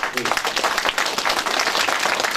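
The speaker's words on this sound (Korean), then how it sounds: "박수 한번." An indoor audience at a Korean beef cattle farmers' association lecture breaks into brisk applause, dense overlapping clapping at close range that fills the short moment, with murmured voices mixed in.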